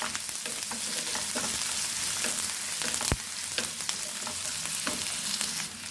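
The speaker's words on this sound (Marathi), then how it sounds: "कांदा आपल्याला व्यवस्थित लालसर होईपर्यंत परतून घ्यायचा आहे।" Cumin seeds and finely chopped onion frying in oil in a pan, a constant loud sizzle with intermittent spatula stirs and one sharp knock against the pan midway, no voices.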